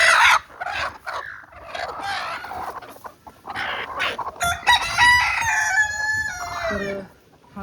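Desi country hens cluck busily near the microphone, then a rooster crows loudly and at length in the second half, its call rising and trailing off before a short quiet end.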